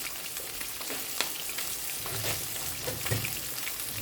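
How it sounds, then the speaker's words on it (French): Salmon fillets fry skin-side down in olive oil, a steady close crackling sizzle with scattered pops, no voices over it. "là je suis en train de faire revenir mes saumons"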